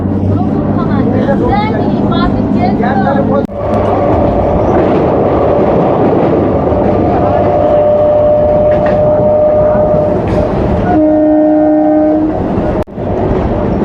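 Local train leaving Sriniketan station on the line toward Bolpur Santiniketan, a loud continuous rumble of the rolling carriages with a sustained horn blast near the end.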